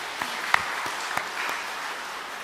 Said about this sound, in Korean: 우리 박수 좀 쳐주시죠.